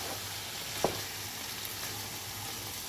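Grated carrots for halwa are stirred in a pan with plenty of ghee, making a soft continuous sizzle and one brief spoon scrape, close and faint.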